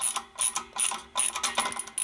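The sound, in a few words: ratchet wrench with socket turning a bolt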